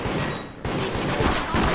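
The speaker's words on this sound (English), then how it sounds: "They shot each other down." Rapid bursts of gunfire ring out in the multiplayer horror video game Deceit, a dense, loud fusillade with brief gaps between volleys.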